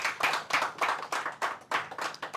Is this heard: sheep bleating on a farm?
no